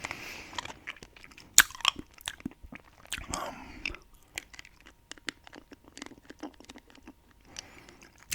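Hard candy crunched and chewed close to the mouth, irregular sharp cracks and wet crunches in quick bursts with short pauses, loud against a quiet background and without speech.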